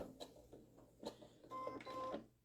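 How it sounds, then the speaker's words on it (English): A sewing machine stitches a fabric gift bag seam at a quarter-inch allowance, heard as quiet short mechanical whirring bursts with a steadier motor whine toward the end. "So I'm going to take a couple little stitches, and all this is done with a 1/4 inch seam allowance."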